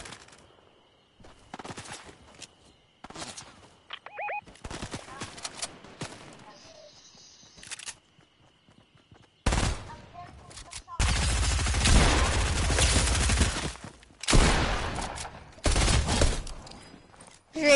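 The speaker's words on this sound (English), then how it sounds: "Of course, it's a pistol." Pistol gunshots crack out in bursts between quiet gaps, with a long dense volley of rapid fire in the middle and more sharp shots after, loud and close, mixed with scattered other sounds.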